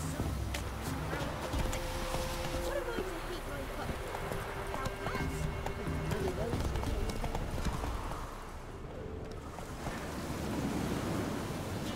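Horse galloping in The Witcher 3, rhythmic clip-clop hoofbeats over wind and surf-like ambience, with someone talking over much of it.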